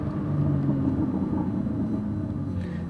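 A car engine pulls hard in first gear, a dense continuous low rumble that swells briefly and holds steady, heard from inside the car with no talking.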